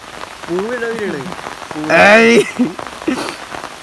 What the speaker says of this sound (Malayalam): ഇപ്പൊ തന്നെ നല്ല മഴ കേട്ടാ